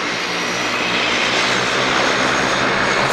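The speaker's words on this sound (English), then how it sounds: "There's a plane coming in." An airplane passes overhead as a loud, continuous engine roar that holds steady and swells slightly toward the end, with no talking.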